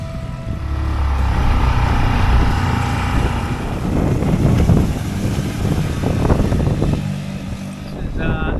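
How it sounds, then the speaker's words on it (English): A dinghy powered by a 6 horsepower Honda outboard motor runs on the water, its steady, close engine drone partly masked by heavy wind buffeting on the microphone, with splashing and rough bursts through the middle. "put a 6 horsepower outboard on it and just see how she goes"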